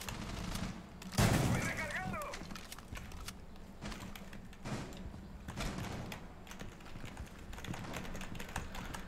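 Rapid shotgun blasts in Rainbow Six Siege, a burst of several close, punchy shots followed by sparser reports over game noise, with a voice speaking in places.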